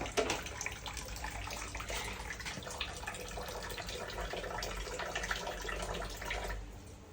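Running water pours steadily from a tap during washing at home, a continuous close splashing hiss that holds for several seconds before tapering off at the end.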